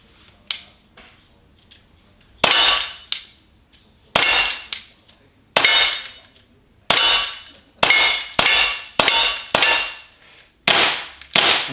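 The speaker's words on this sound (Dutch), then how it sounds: "En dan hoor je aan de knal, het magazijn is leeg." Artemis CP400 air pistol fired repeatedly until its magazine runs empty, about a dozen sharp, loud, close cracks at uneven intervals, each with a short ringing decay.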